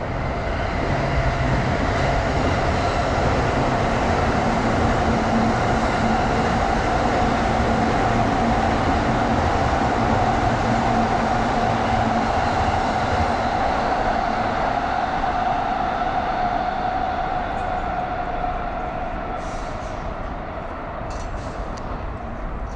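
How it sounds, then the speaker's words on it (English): Train rolling past in Azabu, Tokyo, a steady sustained rumble with rail hiss lasting a long stretch, fairly loud and continuous, fading slightly near the end with faint clicks; no one talking. "You can listen to the nice train sounds."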